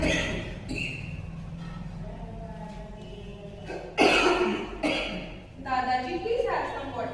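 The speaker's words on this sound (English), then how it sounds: "grandfather is coughing." Several harsh coughs from an adult man, close by, in short bursts, with other voices talking around them.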